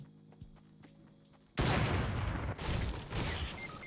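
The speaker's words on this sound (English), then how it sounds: "Is that my teammate shooting or what happened?" Gunfire in the battle royale game Fortnite: a loud crackling volley erupts after a quiet stretch with a faint tonal hum, then a second burst follows, sounding like sustained shooting close by.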